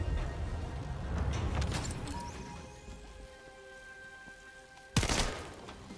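Burst of gunfire while shooting enemies in a video game, clustered shots in the first two seconds, then a quieter stretch before one sharp loud crack near the end.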